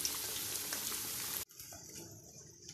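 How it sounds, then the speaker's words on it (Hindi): Pakoras fry in hot oil with a dense, close sizzle that cuts off abruptly about halfway through, leaving a much quieter, softer bubbling afterward. "इसको लाइट ब्राउन होने तक फ्राई करेंगे"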